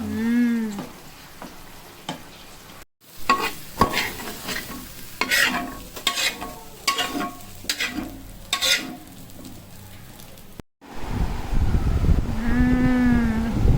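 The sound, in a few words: frying chilli chicken and egg kalakki in a pan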